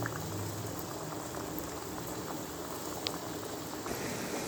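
Surul poori deep frying in hot oil over a medium flame, a dense, continuous sizzle and bubbling hiss that stays fairly even throughout, close and moderately loud with no talking.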